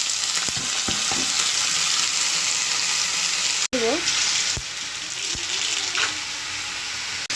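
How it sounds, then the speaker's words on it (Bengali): Potatoes frying in hot oil on a stove make a loud, continuous sizzle throughout, with a few clicks and short tonal squeaks over the top and no talk. "ওইটা তেল আছে, তেলে আলুটা ভাজা করবো।"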